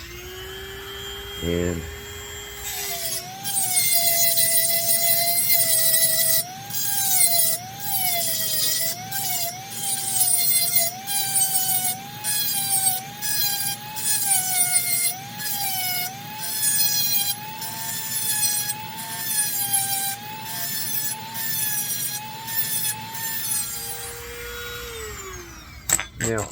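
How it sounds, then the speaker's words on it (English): A Dremel rotary tool fitted with a grinding stone works a shotgun chamber, its high whine rising and dipping in repeated short bursts as it bites the metal, close and fairly loud, running alone for about twenty seconds. "So you take your Dremel tool with your stone on there"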